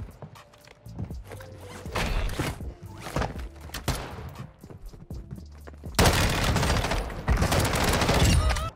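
An MP7 submachine gun fires in Call of Duty: Modern Warfare II, with bursts of rapid, loud gunfire broken by short pauses and a sustained, dense volley near the end, and no talk over it.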